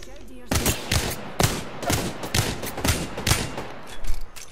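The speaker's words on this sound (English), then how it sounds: "Those were pretty good shots." Automatic weapon fire in the video game Apex Legends, a sharp close burst of rapid shots in a steady rhythm over a few seconds, with a faint voice underneath.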